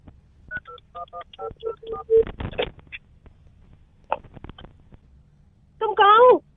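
Telephone keypad tones beeping in a quick run of separate dial presses, followed by a short warbling ring or connection tone, with brief speech fragments between.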